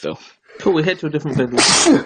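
A quick sneeze bursts out at the end, right after a short stretch of people talking.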